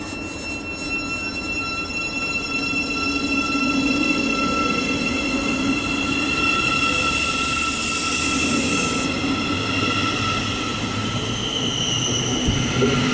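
A Thameslink train, the 10:27 service from Bedford to Brighton, pulls out of St Albans City station, giving a steady rumble with high electric whines and wheel squeal that hold loud and close throughout.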